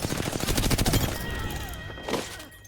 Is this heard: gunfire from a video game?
yes